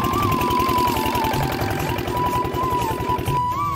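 A motor-driven water pump lifting water to irrigate village fields hums and chugs steadily up close, a rapid mechanical knock under a whining tone, continuous and loud throughout.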